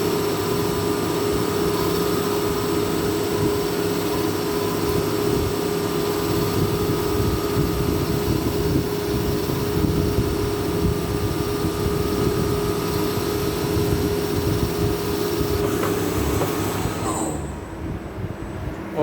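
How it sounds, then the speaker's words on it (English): Steady machining drone from a metal lathe turning a workpiece with coolant running, a continuous dense rumble with sustained tonal whine, loud and close, cutting off abruptly near the end as the machine stops. "Now you can see that the turning process is happening over here."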